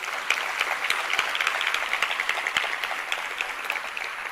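Steady applause from an awards ceremony audience, dense clapping sustained throughout at moderate level with no pauses.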